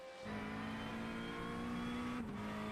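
Race cars in a GT sprint sim race, an Aston Martin Vantage and a Porsche GT3, drone with a steady high engine note that holds nearly level and then dips briefly near the end.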